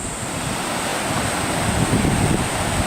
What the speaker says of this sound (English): I can hear the sea.